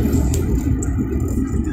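A truck rumbles close by in a steady low drone, with faint rattles and scrapes over the engine noise and no talking.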